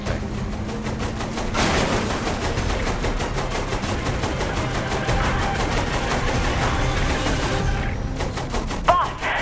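Rapid automatic gunfire in the video game Saints Row 3 rattles on continuously in a steady, fast stutter, with a brief pause near the end before the shots resume.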